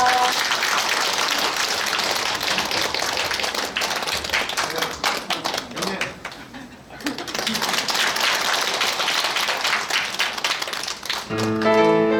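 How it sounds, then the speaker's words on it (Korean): An audience at a Buddhist temple dharma ceremony applauds loudly and steadily, with voices mixed into the clapping. A brief dip comes midway, and music begins near the end. "박수 부탁드리겠습니다."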